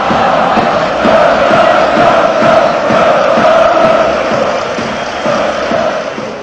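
Red Star Belgrade football fans chant loudly in a packed Belgrade stadium at night, a dense, sustained roar of voices with rhythmic swells.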